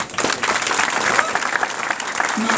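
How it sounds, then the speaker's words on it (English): An audience gives dense, steady applause at a speedway press conference after a league semi-final second leg, sustained clapping filling the room with a voice briefly audible over it. "So let's have a big round of applause once more."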